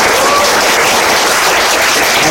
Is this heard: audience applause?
yes